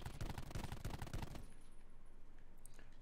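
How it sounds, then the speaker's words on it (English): Rapid automatic gunfire from the Call of Duty Blackout video game, with a dense burst of loud shots for about a second and a half that then cuts to quieter game ambience. "I shot at both of them a couple of times."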